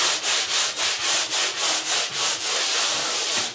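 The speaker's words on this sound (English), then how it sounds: "want to quickly sand the area just to make sure, to roughen up the sheen of the paint" Rhythmic strokes of a sanding sponge rubbing back and forth across painted drywall, about a dozen even passes close by, with no talking.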